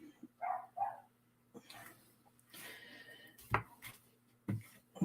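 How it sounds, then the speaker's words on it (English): Dogs bark in short bursts, a couple early and several more later, moderately close, with quiet gaps and faint clatter between. "Oh, there go the dogs barking."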